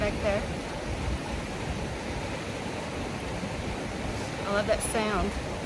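A mountain stream at a vacation cabin in Red River, New Mexico rushes with a steady broadband wash of flowing water, with people talking faintly over it.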